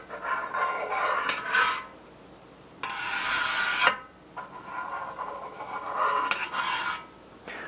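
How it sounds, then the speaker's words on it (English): A knife cuts through set mozzarella curds in a pot, making repeated soft scraping strokes that come in bursts with short pauses between them, close and fairly quiet. "when you're done, turn it 90 degrees and cut the curds in the opposite direction"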